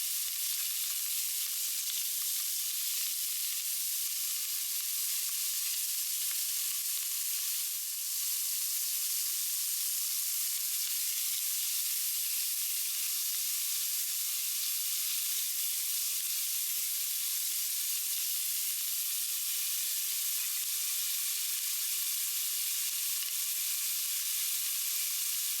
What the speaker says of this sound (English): Brown the ham for a few minutes,